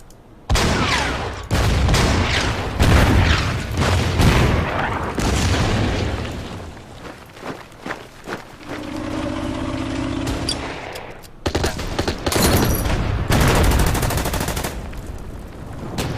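Gunfire attacking a tank in the strategy video game Order of Battle, Winter War at Suomussalmi: loud rapid machine-gun bursts and booming impacts in dense volleys, with a brief lull before another heavy barrage.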